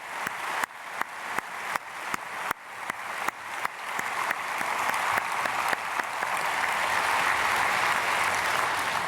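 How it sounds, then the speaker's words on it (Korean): A church congregation at an early-morning prayer service claps: a few sharp, evenly spaced claps at first, then swelling into steady, dense applause that continues to the end. "우리 크게 박수로 축복하겠습니다."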